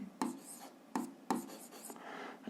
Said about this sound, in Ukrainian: то ми записуємо, що це рівні